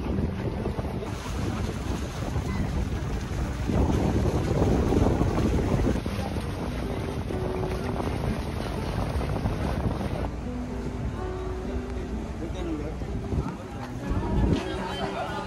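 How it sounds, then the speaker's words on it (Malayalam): A small boat crosses open sea toward St Mary's Island, its engine and hull wash steady under strong wind buffeting the microphone and surging waves, loud and close throughout. "ആ ചെറിയ ബോട്ടാണ് നമ്മളെ ഐലൻഡിലെത്തിക്കുന്നത്"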